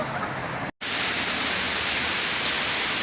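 Heavy rain pours down as a dense, steady, loud hiss that fills the scene, with one brief cut in the sound.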